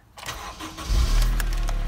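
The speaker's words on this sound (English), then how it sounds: "let's just see if this car starts up first time" A damaged salvage Honda Civic Type R EP3 engine cranks briefly and then catches, settling into a deep, steady idle close by.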